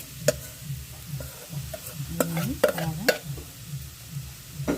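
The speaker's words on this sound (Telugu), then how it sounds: "ఇప్పుడు రైస్ ఇలా కలుపుకోవాలి." A spoon stirs cooked rice through carrot pulihora in a pan, giving scattered scraping and clinking strokes with a faint sizzle beneath, while a voice speaks briefly.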